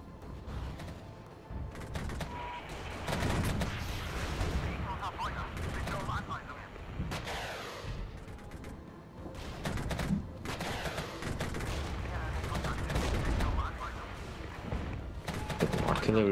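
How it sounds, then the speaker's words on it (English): Artillery barrage in the Regiments strategy game, with repeated rumbling booms and crackling gunfire rolling through a long stretch, steady in loudness, while a voice talks over it. "Little artillery barrage."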